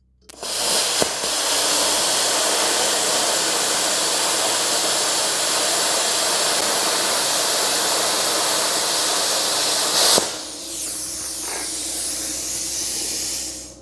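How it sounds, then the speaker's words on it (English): A BestArc BTC500DP plasma cutter at 40 amps slices through quarter-inch steel plate, giving a loud, steady hissing roar of compressed air and arc. It runs for about ten seconds, then cuts off sharply into a softer lingering hiss. "Cutting quarter inch plate."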